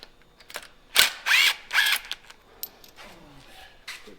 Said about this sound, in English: Just take our bolt back out here.